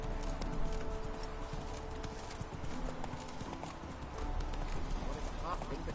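Hoofbeats of a horse named Roach clip-clop steadily through a Witcher 3 game scene, continuous and fairly close, with game music, an occasional snort and a voice talking over it.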